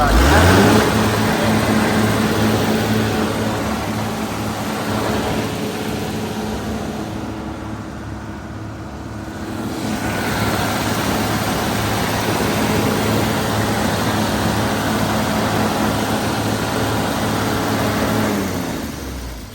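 A Mitsubishi diesel engine runs in a Kobelco SK210 excavator, with a loud, steady mechanical drone and broadband rumble throughout and a brief dip in the middle.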